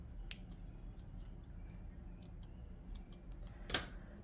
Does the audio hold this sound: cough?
no